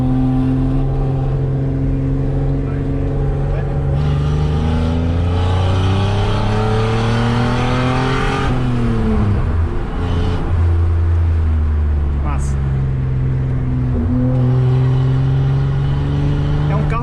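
Engine roar from a Chevrolet Omega 3.0 Diamond six-cylinder, a loud, steady deep drone that rises and falls in pitch as it revs, heard close up over the full length, with someone talking over it.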